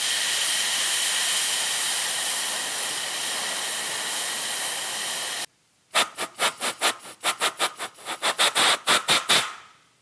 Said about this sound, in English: when I start blowing air through it